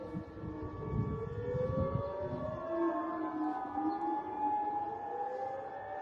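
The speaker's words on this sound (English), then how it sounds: "we can hear the air raid sirens going off in Bahrain once again" Air raid siren wailing across Bahrain, a distant civil defense tone rising and falling in slow sweeps, faint and echoing over a low rumble of background noise.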